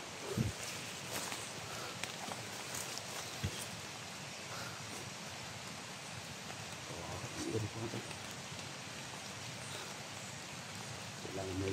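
Steady rain patters down through a forest, a dense broadband hiss that runs the whole time with scattered sharper drops and rustles, while faint distant voices and shouts come and go beneath it.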